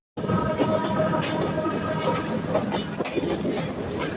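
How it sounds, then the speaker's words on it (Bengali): Sundarban Express train on the Dhaka–Rajbari route, heard from aboard as it runs along the rails: a loud, close, continuous rumble with steady clattering wheels and no talking. "তো আমাদের ট্রেনটি কিন্তু ছুটে চলেছে তার গন্তব্যের উদ্দেশ্যে"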